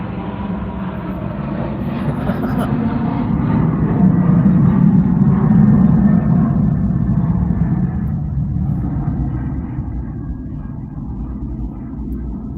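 An airplane passes overhead near an international airport, a deep, loud rumbling roar that swells in the middle and slowly fades, heard alone with no talking.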